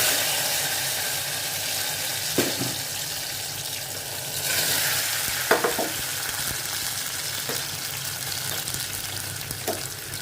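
Boiled potatoes frying in a little oil in a pan, a constant close sizzle with a few sharper crackles and stirring clatters at intervals, no talking.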